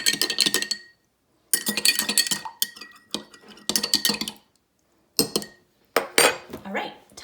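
A spoon stirs Dalgona whipped coffee in a glass, clinking rapidly against the sides in several busy bursts with short pauses between, close and clear.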